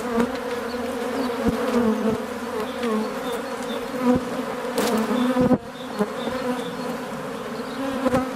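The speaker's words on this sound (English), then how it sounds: "You can see the buckfast ones and the typical black British bee." Buckfast and black British honey bees swarm around a hive beside a dandelion field, a loud continuous buzzing with individual bees droning close past the microphone now and then.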